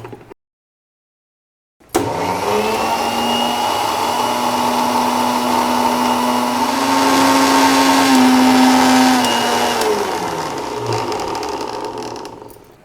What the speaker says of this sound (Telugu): మనం మిక్సీ ఎంత బాగా తిప్పితే అంత బాగా ఉంటుందండి